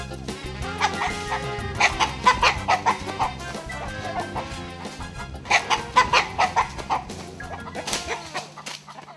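Chickens cluck in rhythmic bursts at a rural home in Costa Rica, loud and close, with a dog barking intermittently among them.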